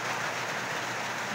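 Steady, hissing rainfall patters continuously, a dense wash of drops with no other sounds.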